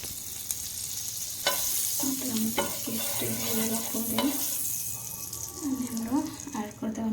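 A bread sandwich fries in butter in a hot pan, giving a steady sizzle throughout with a few sharp clinks and scrapes, while someone talks over it.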